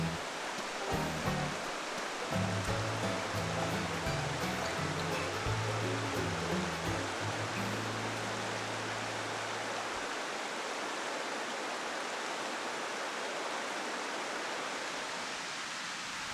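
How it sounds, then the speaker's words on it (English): Spring-fed Sylamore Creek, a clear Ozark stream in Arkansas, spills over from a small lake in a loud, steady rush of water. A low tonal hum sounds alongside it for the first part. "The water is loud."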